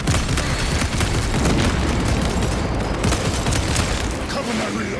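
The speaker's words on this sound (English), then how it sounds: "Crack grenade!" Heavy booms and blasts from a grenade explosion during combat in the Warhammer 40,000 Space Marine 2 video game, a dense, continuous roar of explosions and gunfire layered under game voices and battle noise.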